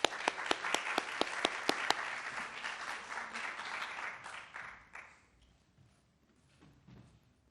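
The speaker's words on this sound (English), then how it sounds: "Let's give him an applause." An audience at a talk on AI, image and likeness applauds, with sharp individual claps up front that swell into a full round, then taper off and fade to near silence.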